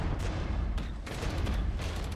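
Tank and artillery fire in a Cold War strategy game, with T-55 tanks firing on dug-in Bradleys: a steady rumbling barrage of booms and cracks with several sharper blasts spaced through it, and no voices.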